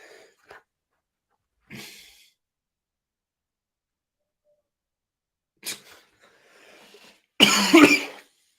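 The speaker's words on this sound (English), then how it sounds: "Got a bit of a cough here" Scattered faint breaths and small throat sounds, then one loud, harsh cough close to the mic, followed by silence.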